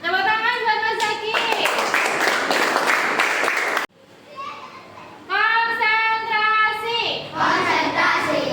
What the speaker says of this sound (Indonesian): Tepuk tangan buat Mas Zaki